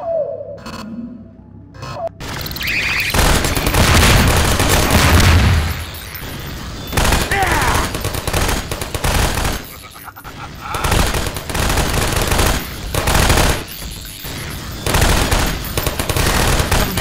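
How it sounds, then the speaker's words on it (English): Turret gunfire in the video game Half-Life 2: Episode 2, loud and sustained rapid automatic fire in long, nearly continuous bursts with booming impacts and brief pauses between volleys. "Dr. Freeman, you take care of the turrets."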